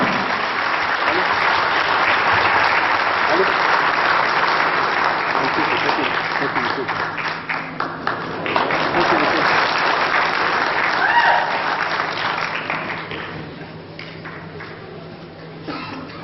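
Sustained applause from a large crowd at a petanque masters tournament in Madagascar, dense steady clapping that swells, briefly dips, then tapers toward the end.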